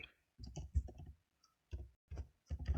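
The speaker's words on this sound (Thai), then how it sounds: "พิมพ์พาสเวิร์ดเข้าไปแล้ว" A password is typed on a computer keyboard in short, close bursts of rapid clicks separated by brief silent gaps.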